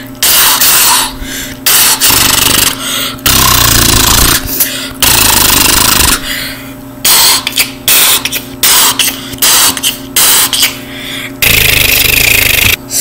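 A voice imitates gunfire in loud, harsh rapid bursts, stuttering on and off with brief pauses between volleys, close and alone without other talk.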